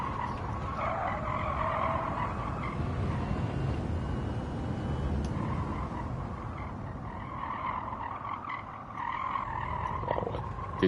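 A race car in the Gran Turismo 7 video game braking and downshifting, with a continuous loud engine roar and tire squeal that drops and rises as gears change, alone with no talk.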